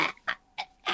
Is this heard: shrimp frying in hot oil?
no